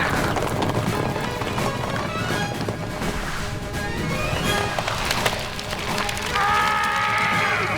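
Hooves of several cartoon horses clattering at a gallop during an animated Zorro battle, a dense busy clatter mixed with crashing and splintering wood, followed by a bright whistling tone near the end.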